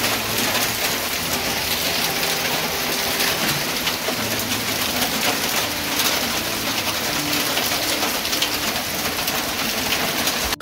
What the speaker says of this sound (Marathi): आता पाऊस सुरू झालाय